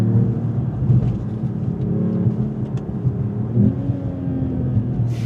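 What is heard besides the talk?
Mercedes-AMG E53 engine revving, synthetic sound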